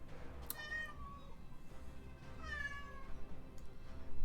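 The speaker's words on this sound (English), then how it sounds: "You would think that this cat is being tortured." Two drawn-out, loud cat meows spaced about two seconds apart, each wavering and strained, heard alone over a low background hum.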